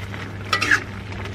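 A spoon briefly scrapes and clatters in a pan while red capcay, a stir-fried vegetable dish thickened with cornstarch, is stirred over a low sizzle.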